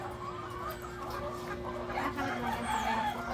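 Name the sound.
chickens and roosters clucking on a farm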